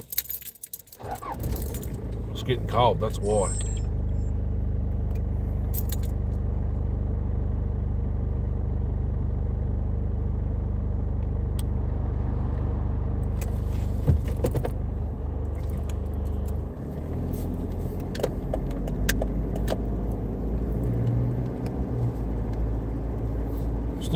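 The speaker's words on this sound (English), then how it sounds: "I'll start the car again." Keys jangle close by before a car engine starts and settles into a steady low idle rumble that runs throughout, with a brief voice speaking partway through.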